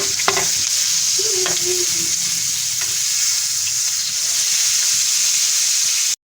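Peshawari chapli kababs fry in hot oil, a continuous bright sizzle with a few early scrapes and pops as they are turned, then an even hiss that runs until a sudden cut, with no talking.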